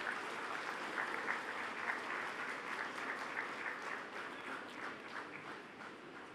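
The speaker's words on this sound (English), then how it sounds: "A big round of applause," An audience at a business school convocation ceremony claps steadily, a dense, even wash of applause heard from a distance and fairly quiet, continuing throughout without talk.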